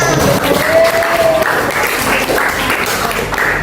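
A classroom group claps during a microteaching lesson, a brisk burst of many hands that holds steady and close, with a brief voice or whistle-like tone early on.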